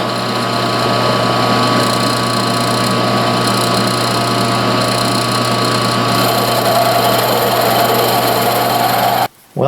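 A 3/8 twist bit in a drill runs steadily and loudly, plunging about half an inch into wood. It gives a continuous high whine for several seconds and then stops abruptly.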